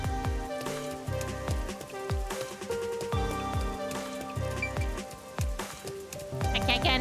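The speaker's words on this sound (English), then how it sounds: "I can't get enough of the footstep rain sound effects." Footsteps on rain-soaked ground from the video game Master Detective Archives Rain Code fall in a steady walking rhythm under constant rain patter, with game music playing alongside.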